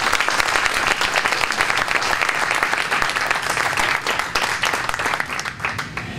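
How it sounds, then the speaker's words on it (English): An audience at a ribbon cutting for a culinary kitchen facility gives a loud, dense round of applause that runs steadily throughout and tapers slightly at the end. "Please, please, please give them a big round of applause."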